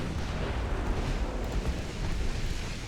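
Broadside of 4-inch naval guns firing in the warship strategy game Ultimate Admiral Dreadnoughts, a dense, continuous rumble of overlapping booms and low roar, loud and steady throughout with no gaps.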